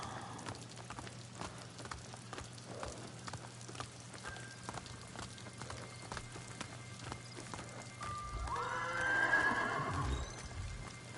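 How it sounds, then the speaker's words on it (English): A horse in the video game Ghost of Tsushima whinnies once near the end, a shrill rising neigh over a faint steady background hum and light ticking. "Angry horse."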